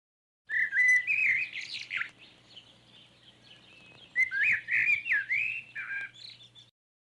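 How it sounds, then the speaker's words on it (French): A blackbird sings nearby in fluting, warbling phrases broken by short pauses, clear and fairly loud against a quiet background. "Il s'agissait du merle."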